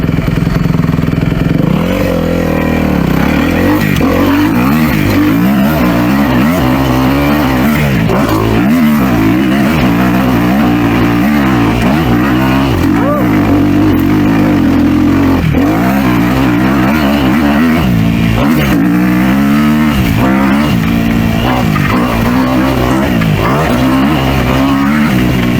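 A Kawasaki KX250F dirt bike ridden hard, the 250cc engine revving loudly and continuously with rising and falling pitch, close and dominant throughout.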